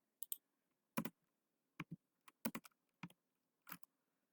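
A username is typed on a computer keyboard, with sparse, irregular key clicks in small clusters, close and fairly quiet, with no voice over them.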